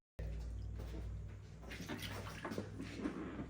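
Coolant drains from the radiator drain cock of a Chevy C10, a faint, continuous trickle of liquid starting abruptly and running steadily with slight splashing toward the end.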